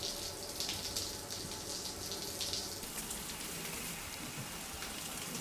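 Shower running in the Death Stranding video game, a steady soft hiss of falling water spattering on a surface, continuous and fairly quiet with no talk.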